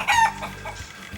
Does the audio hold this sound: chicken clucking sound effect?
yes